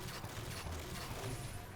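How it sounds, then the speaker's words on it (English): Binary rifle fire in Halo: The Master Chief Collection, a dense low rumbling burst of in-game gunfire and effects held steady through the short stretch, with a voice faintly underneath. "Binary rifle."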